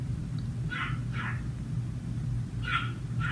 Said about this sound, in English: You can see, can hear my dogs.